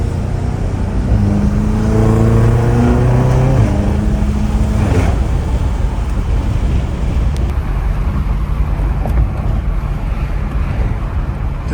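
BMW M5 Competition accelerating hard on a street, engine tone climbing through several rising gear pulls over heavy wind rush, then settling into loud, steady roaring road and wind noise, with no talking.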